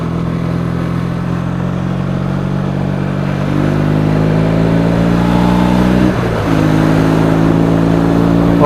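Triumph T140 motorcycle with Dunstall replica silencers and AMAL Mk2 carburettors, idling loud and near as a steady drone, then lifting in pitch with a throttle blip and a brief stumble before settling again.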